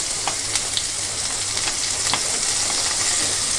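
Onions, green chilli and ginger sizzle steadily in a hot pan over a fast gas flame, a dense continuous frying hiss with occasional crackles and spatters, close and alone.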